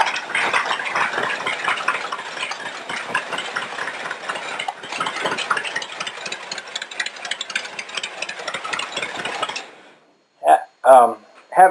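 A rat rod roadster engine runs with a steady rattling, knocking idle, close and loud, then cuts off abruptly near the end, followed by a few short sharp sounds.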